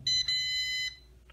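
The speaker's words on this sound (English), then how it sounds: "That single beep means that the quadcopter is now bound to the remote control." An MJX B12 EIS 4K quadcopter gives a single shrill electronic beep on binding to its remote, holding for most of a second before cutting off, close and clear with no talk.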